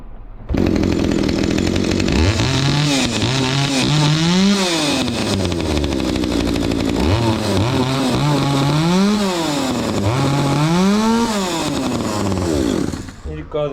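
A Husqvarna 61 chainsaw, long unused and being checked for a fault, fires up and runs loudly, its two-stroke engine revving up and down in repeated rising and falling surges before cutting out.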